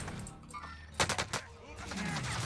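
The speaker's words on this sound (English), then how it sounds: "Why are my shots not hitting?" Burst of rapid gunshots from a first-person video game shooter, four or five sharp cracks in quick succession over continuous game ambience, with no talking.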